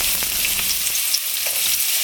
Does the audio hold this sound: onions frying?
yes